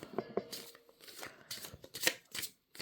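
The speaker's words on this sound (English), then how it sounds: "I usually just shuffle these until one of them comes out." Divination cards are shuffled by hand, with soft riffling bursts and light slaps coming in irregular flurries, close and fairly quiet.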